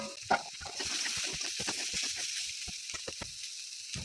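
Vegetables, including turmeric-dusted eggplant, fry in a pan with a steady close hiss and sizzle and scattered light stirring clicks throughout.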